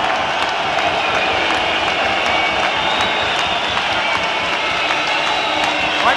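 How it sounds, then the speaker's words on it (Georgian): A large stadium crowd roars with sustained cheering and applause after a rugby try in a Georgia–Russia European Nations Cup match, a dense, steady wash of noise with no break across several seconds. "ოვაციები სტადიონზე შეძახილები"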